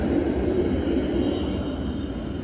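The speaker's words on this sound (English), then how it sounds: "You can see one of the trams coming past, classic Helsinki tram." A classic Helsinki tram rolls past on a snowy city street, a steady low rumble of wheels on rail with faint high squealing tones above, fairly close and continuous with no talking.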